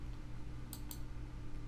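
Two quick, faint mouse clicks close together over a steady background hum while configuring hover settings in a Divi website theme editor.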